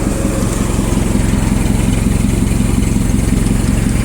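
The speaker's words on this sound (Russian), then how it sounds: "Давайте покажу мотор." A Japanese 1.5-ton forklift engine idles steadily and loudly up close, a low, even mechanical chug with no change in pace throughout.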